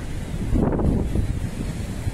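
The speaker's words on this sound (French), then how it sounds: "Le vent est déchaîné." Strong wind roars steadily across a microphone at a seaside camp, a loud, continuous buffeting rumble with gusts swelling and easing and no voices.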